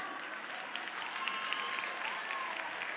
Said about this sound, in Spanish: Aplauso fuerte para Lesoko Standak.